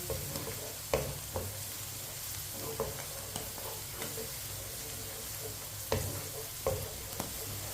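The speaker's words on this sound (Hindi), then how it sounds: "मटर को भी इसी तरह चम्मच चलाते हुए पकाना है।" Peas frying in a pan for winter-style macaroni, with a steady low sizzle and a few distinct scrapes and taps as a spoon stirs them now and then, quiet and close, no voices.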